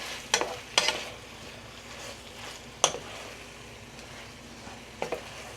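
Peppers cooking down in pepper steak sauce in a pan, a soft, steady simmering sizzle broken by a few sharp clicks of stirring, close and fairly quiet, with no voices.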